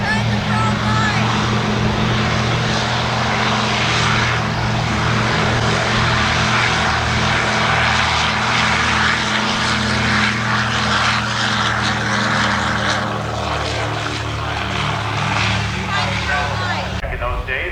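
Classic propeller airliners, including a Lockheed Constellation, fly past with a loud, continuous droning roar of piston engines and a throbbing low tone that holds steady throughout.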